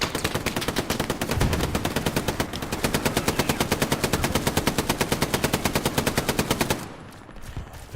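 Sustained machine gun fire in the World War II shooter Hell Let Loose, a loud, rapid, evenly spaced stream of shots lasting about seven seconds before cutting off into a quieter tail.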